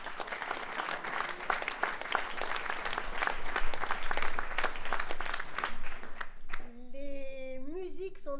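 A theatre festival audience gives sustained applause that fades toward the end, and a voice comes in over the last moments.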